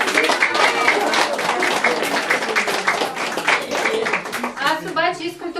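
Applause from a crowd, dense and steady, with voices mixed in as the clapping tapers off near the end.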